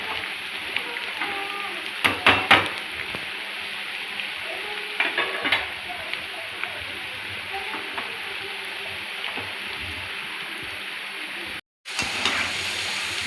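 Cauliflower florets for gobi manchurian frying in oil, a steady close crackling sizzle running throughout with occasional stirring clinks and a brief dropout near the end.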